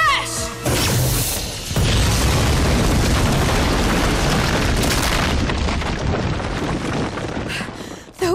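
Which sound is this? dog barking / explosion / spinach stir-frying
explosion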